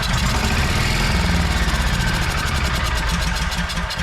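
A small Cummins generator engine, restarted on its first pull after starter fluid, runs loud and close with a fast, steady, slightly knocking putter through the whole stretch.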